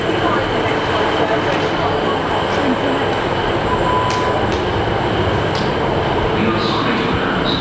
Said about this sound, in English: I can see our train disappearing into the distance